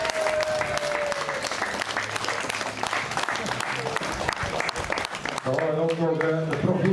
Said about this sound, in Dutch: Mogen we een daverend applaus van de king van de meisjes van BMW, Jens Stuurmans.